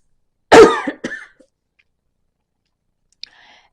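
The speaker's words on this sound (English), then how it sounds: "I'm coughing because my nose is running down my throat" One person coughing nearby, a sharp loud cough followed by a couple of smaller throat-clearing coughs, then near silence with a faint click at the end.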